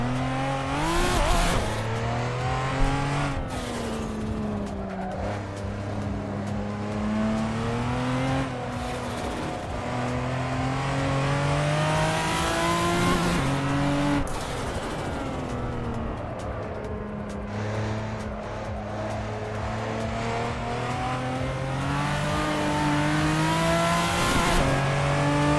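A race car engine in Assetto Corsa Evo roars steadily through a lap, its pitch climbing through each gear and dropping sharply at the shifts. It stays loud and close the whole time, with no talking.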